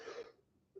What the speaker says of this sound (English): I'm coughing like this.